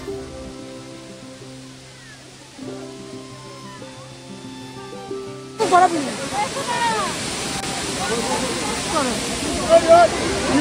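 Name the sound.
Bamni Falls waterfall in Purulia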